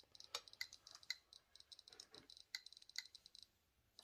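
A Geiger counter held near uranium glass gives off irregular sharp clicks, some brighter single ticks and clusters among fainter ones, quiet and close with no voices.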